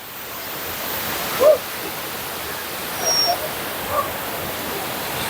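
Steady broadband rush of a river flowing below Watu Ondo waterfall in Cangar, Batu, East Java, heard from directly above the stream, constant and even, with a few faint brief chirps over it.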